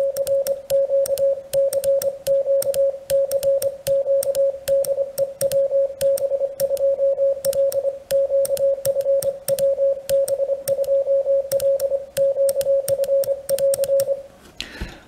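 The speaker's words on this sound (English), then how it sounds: "I got the keyer set to 25 words a minute. Let's see how it sounds." A keyer at 25 words per minute sends Morse code as a steady single-pitched sidetone, rapid clean dits and dahs in an even rhythm for about fourteen seconds, alone and clear until the tone stops at the end.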